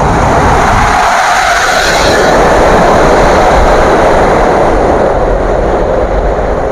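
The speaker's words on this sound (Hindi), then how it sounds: "ये आपने देखा ये बुलेट ट्रेन गई है" A bullet train on the Guangdong intercity railway rushes past close by, a loud, steady roar of wheels and air that stays dense for several seconds, with no talk over it.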